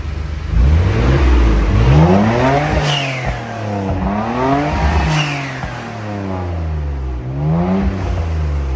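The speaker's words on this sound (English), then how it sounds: "It's a very loud car. It's a very loud car. It's an RB26" A Nissan GT-R R34 with its RB26 inline-six starts up and revs loudly, with several rising and falling sweeps of engine pitch in quick succession, close and continuous with no talk.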